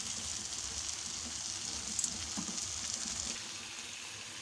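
Potato slices fry in a pan for a spiced aloo dish, giving a soft, even sizzle with a few faint pops, quiet and continuous.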